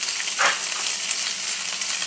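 Onion, capsicum, carrot and green chilli frying in a pan for fried rice made from leftover rice, giving a quiet, even hiss with a brief stirring scrape near the start, heard up close with nobody speaking.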